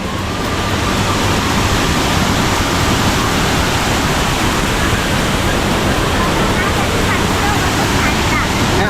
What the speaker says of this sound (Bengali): ঝর্ণাকে এই রূপেই দেখতে হবে সাউন্ডটাকে কেমন শুনতে পাচ্ছেন